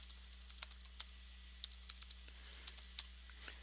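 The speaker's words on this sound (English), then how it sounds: "I'm just going to type in the chat really quick." Quick, light keystrokes on a computer keyboard come in irregular bursts of taps, close and faint over a quiet background hum.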